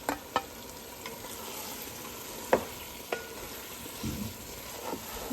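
Chicken sizzles in a masala for home-style biryani while a spoon stirs it, with a few distinct clanks of utensil on pan over a constant frying hiss and no talking.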